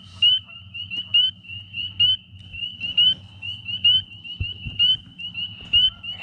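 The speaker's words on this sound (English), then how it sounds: "See that peeper?" A spring peeper frog calls nearby, giving clear, high, rising peeps repeated steadily about once a second over quiet background rumble.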